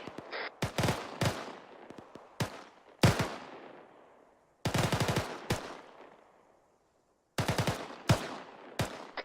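Machine gun fire suppressing a bunker during squad training: several sharp bursts of rapid shots, each ringing out with a long echoing decay, separated by brief quiet gaps.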